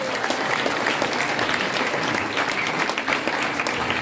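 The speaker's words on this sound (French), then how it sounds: "Applaudissez-les." Audience applause at a circus school festival, now in its sixth edition, in Onnezies: dense, steady clapping from a crowd throughout, fairly close and even in loudness.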